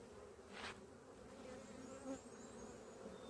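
Honey bees buzz steadily at a hive during swarm-prevention work on the frames, a soft continuous hum with a few individual bees passing close.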